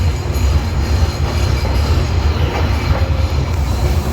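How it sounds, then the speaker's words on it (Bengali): The Nilsagar Express rolls into Ibrahimabad railway station with a loud, continuous rumble of wheels on track and faint squeals, with no voices. "আমরা প্রবেশ করলাম ইব্রাহিমাবাদ রেলওয়ে স্টেশনে"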